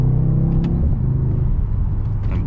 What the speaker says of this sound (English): I wonder if you guys can hear the turbos.